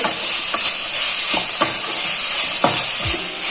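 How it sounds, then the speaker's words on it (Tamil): Onions fry in coconut oil for Kerala karimeen polichathu, a loud steady sizzle and hiss with a few scraping stirs of the pan, close up and free of talk. "வெங்காயம் தேங்காய் எண்ணெயில் ஃப்ரை பண்ணும்போது"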